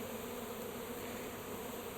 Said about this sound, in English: Hopefully they're all just field bees there.